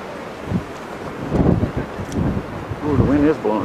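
Strong wind roars and buffets at a gorge in Colorado, a steady blustery rumble with gusts, while people talk over it.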